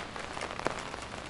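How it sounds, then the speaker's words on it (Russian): Rain falls steadily at Krasnaya Polyana near Sochi during the ski season, a dense, even hiss of drops with one brief louder patter in the middle and no talking. "Дождь идет"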